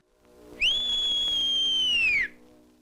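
A single sustained whistle blast in a war-era film scene in a village, clear and steady for under two seconds with a sharp start and a falling tail, heard alone.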